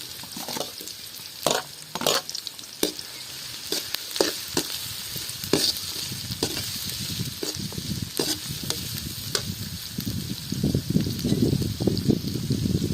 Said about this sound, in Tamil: பெரிய வெங்காயம் போட்டு வதக்கிறோம்